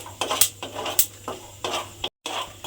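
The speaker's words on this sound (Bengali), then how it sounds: "এইভাবে কিন্তু বাদামটাকে আমাকে খুব ভালোভাবে একটু সময় নিয়ে ভেজে নিতে হবে।" Peanuts are stirred and fried in oil in a pan, with a steady run of scraping, rattling strokes and a soft sizzle underneath, close and moderately loud.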